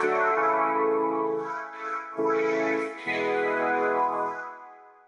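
Gritty coloration mode of the Wave Alchemy Radiance EMT-140 plate reverb plugin on a sustained synth tone, thick and distorted with chorus-like shimmer, swelling in three phrases separated by brief breaks.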